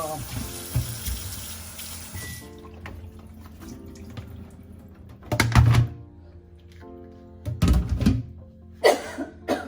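Tap water runs into a kitchen sink while vegetables are washed, a steady splashing stream followed by intermittent bursts of rinsing, clunks and handling noises near the microphone.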